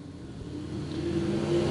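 Hobby stock race cars at a USRA nationals feature on a dirt oval, engines droning and swelling as the pack pushes through the turns, a steady mid-pitched roar that builds toward the end, with no talk.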